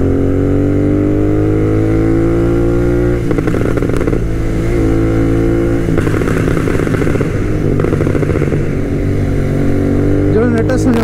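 The engine of a fully tuned Royal Enfield GT 650 motorcycle rumbles close and loud throughout, idling with a deep rumble and revving in a few surges. A voice talks over it now and then.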